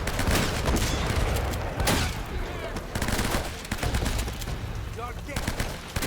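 Gunfire in the video game Uncharted: Drake's Fortune, repeated loud bursts of shots and rapid automatic fire in a busy firefight, with a player talking over the action.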